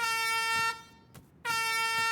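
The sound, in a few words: air horn honking to start the course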